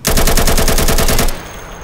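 Rapid automatic gunfire from a first-person shooter video game, a loud sustained burst of closely spaced shots lasting over a second before cutting off to quiet.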